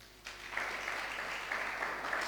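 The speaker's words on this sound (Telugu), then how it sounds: "గట్టిగా చప్పట్లు కొట్టాలా?" Loud, steady clapping from a church congregation fills the space throughout, a dense wash of many hands starting abruptly after a brief quiet moment.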